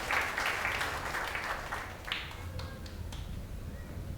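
A church congregation claps together after a prayer at a worship service, a brief burst of fairly faint applause that quickly fades, with no talking over it.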